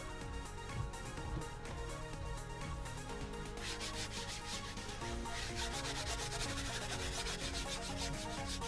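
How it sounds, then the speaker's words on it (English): Brush scrubbing car seat upholstery during a full valet of a VW Polo, continuous close rasping strokes in a fast back-and-forth rhythm, growing slightly brisker partway through, with no talking. "Again, with the scrubbing, cross hatching, just sometimes it helps with the agitating and getting the dirt out."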